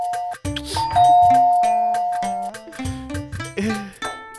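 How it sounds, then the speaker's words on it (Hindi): An electronic doorbell chime rings in a home setting in a Hindi comedy, its ding-dong tones clear and fairly loud over a backdrop of musical notes, with no talking. "अंदर बाहर पता नहीं कौन घंटी बजा देता है।"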